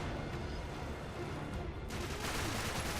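Rapid bursts of small submachine gun fire in the video game Uncharted 3, loud and dense throughout with no talk over it.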